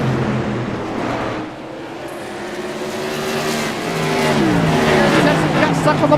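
Modified race cars running three wide on a short track, engines roaring loud and close with rising revs and a car sweeping past, a crowd-like wash underneath and no speech.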